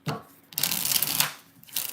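Close, papery riffling bursts of tarot cards being shuffled, a quick one then two longer flurries, loud and crisp with no voices.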